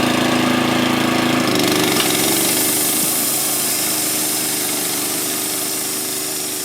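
A loud, steady mechanical roar of a running sawmill sawing 1x6 fence boards, an engine and blade droning continuously with a slight shift in tone partway through.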